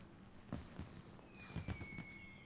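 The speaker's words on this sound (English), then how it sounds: "Fireworks." Fireworks in the video game Final Fantasy XIV: a few quiet pops and crackles with a whistling streak rising through the middle, faint and distant over a soft background.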